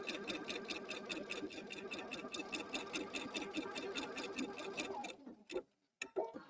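A Pfaff sewing machine runs around again cutting fabric, giving a fast, even mechanical ticking that stops abruptly near the end, followed by a few isolated clicks.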